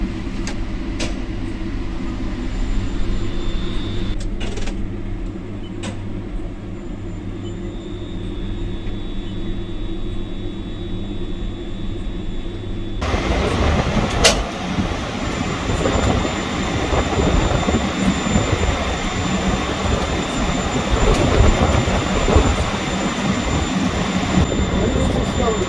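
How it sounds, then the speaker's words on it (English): SAEZ SL240 tower crane on top of a building, its jib driven by electric motors: a low steady drone that jumps to a louder, rougher whirring mechanical noise partway through and holds there, with wind and occasional clicks. "And now let's drive the jib."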